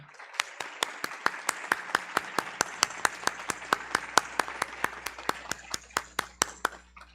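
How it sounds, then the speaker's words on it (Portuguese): Audience at the close of a regional development and public policy seminar clapping for the organizers, a sparse, evenly paced run of about two dozen sharp claps in a quiet room. "Vou pedir um aplauso para os organizadores"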